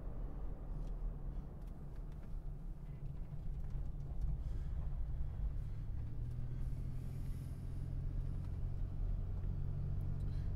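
A one-owner 2004 Toyota Tacoma TRD 4x4 crew cab with 77,000 miles drives over a crowned, uneven road, giving a steady low engine and road rumble from inside the cab, fairly quiet and continuous without speech.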